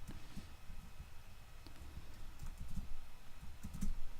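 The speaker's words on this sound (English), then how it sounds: "Holding keys down, doing key combinations" Computer keyboard keys pressed in quick, irregular clusters, with keys held down and combinations struck to control animation states in a game engine, close up and moderately quiet against a soft background hiss, with no talking.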